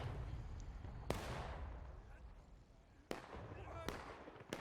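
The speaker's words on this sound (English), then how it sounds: "And artillery makes them pay for it." Artillery fire in a 170-player online battle game during open-field charges: four sharp, booming blasts, each with a short rumbling decay, spaced a second or so apart over a low battlefield din.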